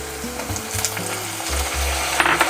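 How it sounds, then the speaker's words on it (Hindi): Tomatoes drop into a frying pan holding ginger-garlic paste for a spicy lobia curry, giving a steady close sizzle with light clinks and stirring knocks throughout. "अब मैंने इसमें डाल देना है टमाटर"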